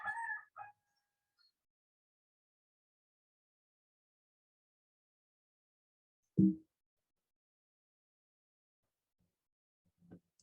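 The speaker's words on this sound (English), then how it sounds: "like the white cockerel Shinecock standing on the road, deciding which way to cross." A white cockerel named Shinecock, standing on a road, gives a few short, faint calls separated by long stretches of silence.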